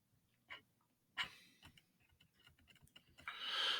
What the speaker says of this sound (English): I like to move my objects with my keyboard.